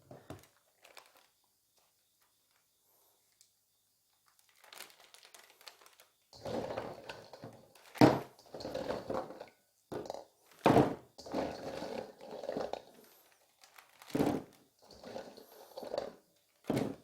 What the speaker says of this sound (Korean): 이렇게 비닐로에다가 구멍을 4군데를 뚫고